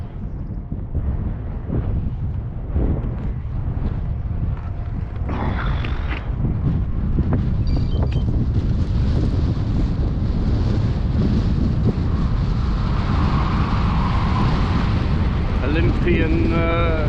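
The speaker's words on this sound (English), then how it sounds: "Into a headwind." Loud, steady wind buffeting roars across a microphone while cycling into a headwind out of Belfast near the water, continuous and close for the whole stretch, with some faint talking beneath it.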